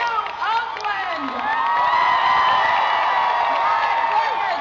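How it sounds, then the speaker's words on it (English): A large crowd at a presidential campaign rally in Oakland, California, cheering and whooping loudly, with clapping mixed in. The roar swells and holds steady, and a voice is heard over it at the start. "My goodness, what an amazing crowd."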